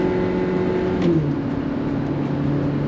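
Hyundai Stargazer, a six-seat MPV with an IVT gearbox, accelerating as heard from the cabin. The engine note steps down quickly around the midpoint as the gearbox shifts, then settles into a steady drone.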